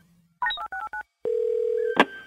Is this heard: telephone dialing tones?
yes